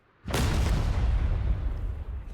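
Single loud grenade blast in the video game PUBG, a sharp close boom followed by a long heavy rumble that slowly fades.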